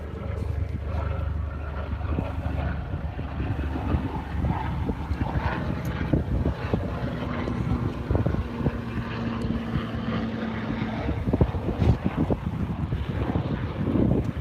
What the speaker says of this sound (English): another helicopter going overhead